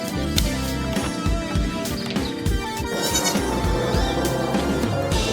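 Goats bleat in a dense, overlapping chorus, several animals calling close by with repeated wavering cries that continue without pause.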